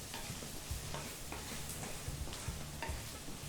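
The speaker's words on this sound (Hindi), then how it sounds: "2-3 मिनट तक वापस धीमी आंच पे भूनिए। छिलका बिल्कुल बढ़िया पक जाना चाहिए।" Matar pea peels sizzle in a pan over low heat for a spicy vegetable dish, with a steady frying hiss. A spoon scrapes and stirs in a near, regular rhythm and nobody speaks.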